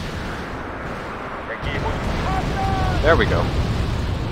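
Distant missile launches and booming explosions from anti-tank guided missiles in Wargame AirLand Battle, a rumbling low roar with sharp whooshing streaks, briefly under a short spoken remark.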